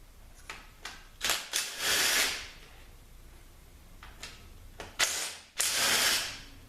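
Ratchet wrench loosening bolts during an F4A51 automatic transmission teardown: several bursts of rapid clicking ratcheting, close and fairly quiet, separated by short pauses.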